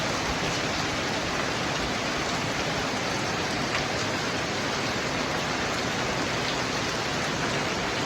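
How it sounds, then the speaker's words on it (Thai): Steady, dense rain pours down continuously, a close, even hiss of drops on surfaces with no pauses. "โอ้ยฝนตกนี่"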